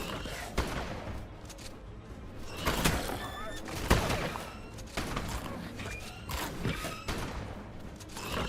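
Gunfire in the video game ARK Survival Ascended, with scattered sharp shots and mechanical clanks spread across a busy game soundscape. Some bursts are louder than others, and a voice talks between them.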